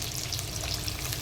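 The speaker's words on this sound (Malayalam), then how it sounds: "സവോള ഇടുകയാണ്." Sliced onion frying in a pan as the base for chicken curry cooked in a clay pot, giving a steady, close, continuous sizzle and crackle with no talk.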